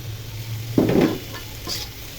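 Bottle gourd and pointed gourd peels frying in a pan, with a soft steady sizzle and one louder burst of stirring scrape partway through, close and without talk.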